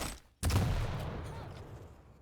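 A single sharp gunshot cracks out in a Quake Pro League match, followed by a decaying rumble of in-game ambience.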